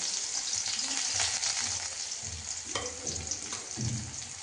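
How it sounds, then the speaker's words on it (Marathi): Steady sizzling and crackling of onion frying in hot oil with cumin and mustard seeds, close and continuous, with soft stirring scrapes and a few low knocks from the pan. "आता त्यात कांदा सोडलेला आहे।"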